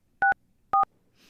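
Two short, loud touch-tone beeps from a telephone keypad dialing into a phone tree, evenly spaced about half a second apart, followed by faint hiss.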